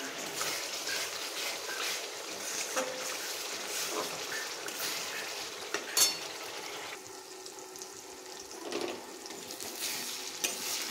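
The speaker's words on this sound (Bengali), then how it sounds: "এরপর মশলাটা ভালো করে কষাতে থাকি" Spice masala stirred and sizzling in a pan for a fish roe fritter curry, a steady close frying hiss with scraping spatula strokes and occasional clinks throughout.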